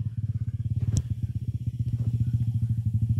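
A motorcycle engine idles close by with a loud, steady, rapid low-pitched thumping pulse, broken briefly by a sharp metallic clink.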